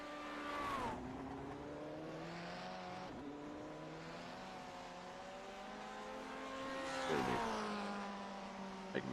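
Several classic Lotus 49 race cars lap a circuit, engines droning and revving in overlapping tones as they pass, with one car sweeping close and loud near the end.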